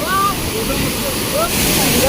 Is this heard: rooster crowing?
no